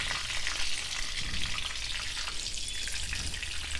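Prawns fry in a pan for a KFC-style prawn fry, giving a steady, loud, dense sizzle with crackling oil that carries on unbroken and close throughout.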